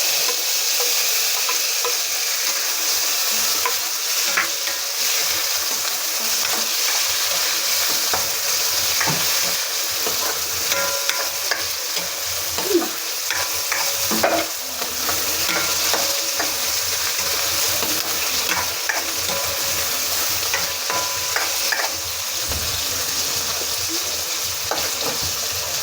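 Onion and tomato sautéing in a pan for a mussel and moringa dish, a steady broadband sizzle with scattered scraping stir clicks, close and loud throughout, no talking.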